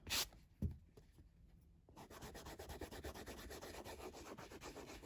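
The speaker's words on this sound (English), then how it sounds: "This just brushes the fur and freshes it." A small brush worked over the nap of suede shoes, a couple of quiet scuffs and then quick, soft, rhythmic scratchy strokes close by, with no voices.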